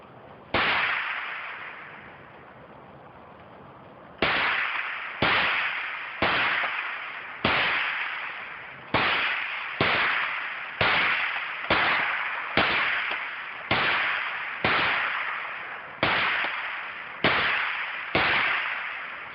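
Marlin Model 60 rifle fired outdoors in cold weather, about fourteen sharp cracks in a fairly quick, evenly spaced string after one opening shot and a pause, each shot ringing out with a short echoing tail.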